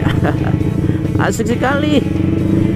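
A motorcycle engine drones steadily throughout a ride, with wind and road rumble under a rider's close speech.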